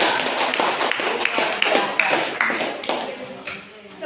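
A classroom of students claps for a classmate, a brisk scattered round of hand clapping, close and fairly loud, tapering off toward the end with a few voices mixed in.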